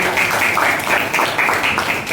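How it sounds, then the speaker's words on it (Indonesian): A group of students in a classroom claps together during a chemistry lesson, giving steady, dense applause that stays loud and near throughout. "Tepuk tangan dong bagi sekali lagi."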